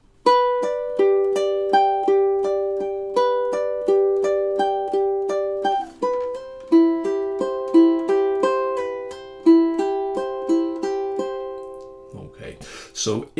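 Measures 7 and 8 of Bach's Prelude in C plucked on a classical ukulele, steady arpeggiated notes ringing out clearly and up close, ending with a brief handling noise.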